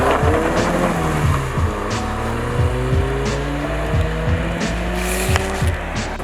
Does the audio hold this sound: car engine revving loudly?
yes